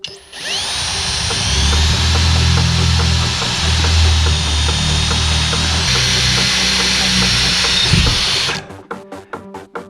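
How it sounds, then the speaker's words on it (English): A power drill bores through a 2x4 in a wooden farmhouse wall, whining loudly and steadily at close range for about eight seconds. It then winds down, followed by a few sharp knocks and rattles. "just drill right through here."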